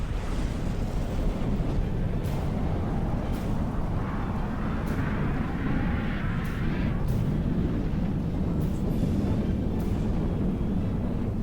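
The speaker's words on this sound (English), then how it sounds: "Next missile strike's coming in though" Missile strikes in the naval combat game From The Depths, heard as a steady roaring rumble with repeated sharp explosive cracks spread across the whole stretch, loud and unbroken, with no one talking.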